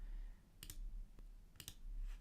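Computer mouse clicks at a desk, two quick double clicks about a second apart, faint and close, over a low background hum.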